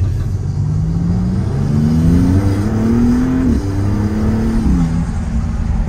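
A Maserati MC20 sports car accelerates gently, its engine note rising steadily in pitch through a couple of gear steps, loud and close with a constant low rumble.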